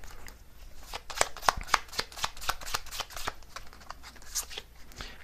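Tarot cards shuffled and drawn by hand, a dense run of crisp riffling flicks and papery slaps, close and fairly loud, with no talking.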